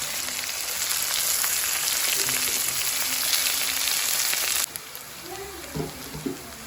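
Fish sizzles loudly and steadily in hot oil in a home kitchen pan, a dense hiss that cuts off abruptly and gives way to quieter crackles and a few soft knocks.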